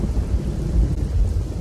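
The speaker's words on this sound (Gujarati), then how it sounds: "ધોરાજી પંથકમાં પણ ધોધમાર વરસાદ છે" Heavy monsoon downpour in Gujarat's Dhoraji area with thunder: a steady, dense roar of rain with low rumbling swells throughout, loud and unbroken, no voices.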